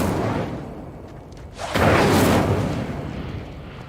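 In Hogwarts Legacy, a fiery Incendio spell bursts as a sudden loud whoosh and roar that swells and then slowly fades over a low rumbling game background.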